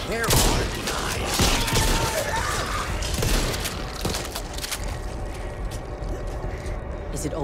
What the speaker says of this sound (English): Shoot it between the eyes!